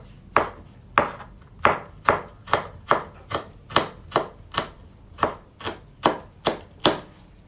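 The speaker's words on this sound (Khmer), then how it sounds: "ឥឡូវយើងមកហាន់ម្ទេសមក" Knife chopping chili peppers on a board, about fourteen sharp, evenly spaced strokes at a steady moderate pace, close and clear with no talk.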